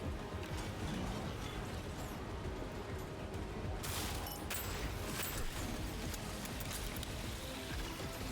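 Turrets in the roguelite game DZR 2 fire a constant, dense barrage of shots, a loud and unbroken rattling wash of gunfire with no talking.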